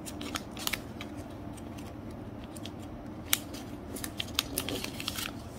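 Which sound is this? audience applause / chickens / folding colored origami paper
folding colored origami paper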